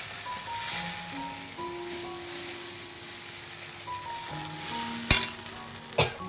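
A spice mixture sizzles and is stirred in a pan over a nigella-seed tempering, for a hilsa fish curry. A constant, even frying hiss runs under faint sustained tones, with sharp utensil knocks near the end.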